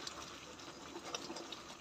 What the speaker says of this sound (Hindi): आप इसमें मैं थोड़ा सा पानी डालूंगी